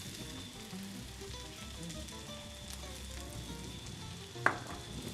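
Leftover pasta reheats in a pan with a splash of water, a soft steady sizzle beneath low background tones, with one sharp clink near the end.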